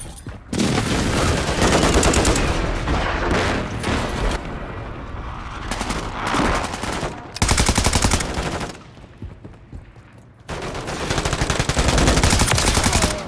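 Call of Duty MW3 Zombies gunfire on PS5, with loud sustained bursts of rapid automatic fire and scattered single shots in several long volleys broken by brief lulls, close and dense.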